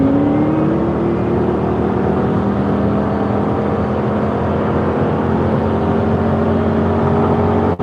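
Cars driving on a tollway heard from inside a vehicle stuck in slow traffic, a loud continuous engine and road drone with a rising engine tone early, steady to the end.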